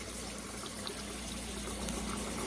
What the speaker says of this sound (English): for 5 minutes I'm just going to keep rinsing my cucumbers